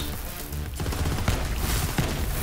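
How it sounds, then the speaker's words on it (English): The Skeksil shock weapon fires in Borderlands 3, a dense, loud barrage of rapid shots and explosive bursts packed together with no pause. "let me show the shock one with the explosion"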